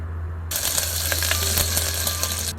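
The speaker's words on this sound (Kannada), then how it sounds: "ಬೆಳ್ಳುಳ್ಳಿ ಹಸಿಮೆಣಸಿನಕಾಯಿ ಸ್ವಲ್ಪ ರೆಡಿಶ್ ಆದರೆ ಸಾಕು, ಅಲ್ಲಿವರೆಗೂ ಸರಿಯಾಗಿ ಹುರ್ಕೊಳ್ಳಿ" Garlic and green chillies sizzle steadily in hot oil in a pan, a loud continuous frying hiss that starts abruptly, with a few light clinks.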